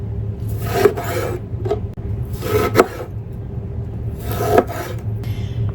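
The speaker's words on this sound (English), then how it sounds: "Next, I'm going to do some ginger." Fresh ginger is scraped across a grater in three separate rasping bursts, each lasting under a second, coarse and close, with a low steady hum underneath and short gaps between strokes.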